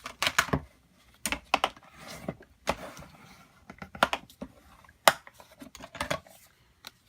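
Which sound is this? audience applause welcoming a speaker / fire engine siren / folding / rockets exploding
folding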